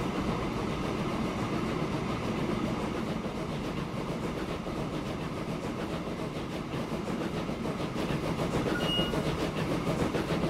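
A train rolling along poorly laid, uneven track in the Transport Fever simulation game, a steady dense rumble with faint rhythmic clatter running continuously at moderate level, no voices.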